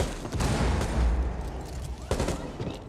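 Frag grenade blast and gunfire in a Rainbow Six esports match: a dense, loud burst of booming explosions and rapid shots packed into under three seconds, with a second impact near the end.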